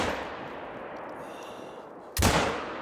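A single sharp rifle shot from a Tsurugi LRR .388 in theHunter: Call of the Wild, cracking loudly near the end after a steady, faint outdoor ambience.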